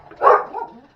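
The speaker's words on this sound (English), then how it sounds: "and the dogs are barking." A single muffled bark from dogs outdoors while a lawn is being mowed, brief and somewhat distant.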